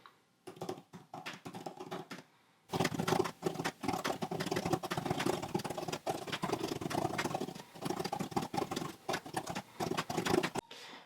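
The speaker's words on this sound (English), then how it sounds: "do just a simple typing test and compare my typing speeds" Rapid, uneven clatter of keys being typed on an iPad keyboard, steady bursts of tapping with a brief pause early on, fairly close and moderately loud.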